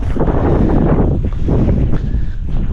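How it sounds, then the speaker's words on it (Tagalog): Strong wind buffets the microphone in a constant low roar, gusting slightly throughout with no one talking. "anong oras pa lang malakas na yung hangin"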